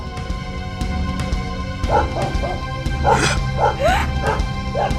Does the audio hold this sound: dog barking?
yes